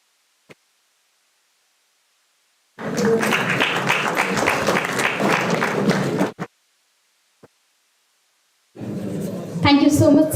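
An audience at an international conference on communication, security and AI claps during a bouquet presentation, two dense bursts of applause separated by near silence, the second rising louder toward the end.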